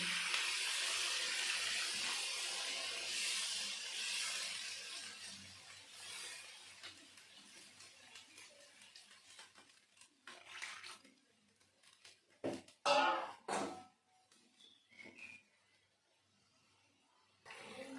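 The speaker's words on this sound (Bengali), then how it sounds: "এখন দিয়ে দেবো জল উষ্ণ গরম জল" Warm water pours into a pan of Bengali dhoka curry, a loud rushing stream at first that thins out and fades, followed by a few scattered clinks and stirring clatters nearby.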